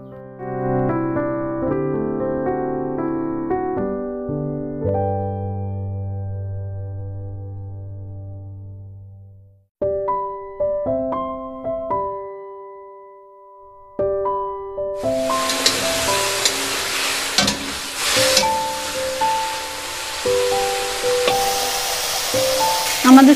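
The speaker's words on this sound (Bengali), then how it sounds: "এবার চিংড়ি মাছটাকে ভেজে নেব" Shrimp rubbed with salt and turmeric frying in hot oil: a loud, steady hiss rises midway and continues to the end, mixed with background music throughout.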